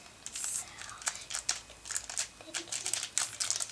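Close-up crinkling and rustling of thin plastic in short, irregular bursts as a small packet is handled and pulled at, with a faint voice underneath.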